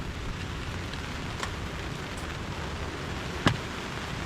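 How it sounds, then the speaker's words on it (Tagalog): Steady hiss of rain falling at a beach campsite at Dibut Beach, San Luis, Aurora, a constant wash of sound with a few faint drips and a sharper tap near the end. "Ayan na yung ulan."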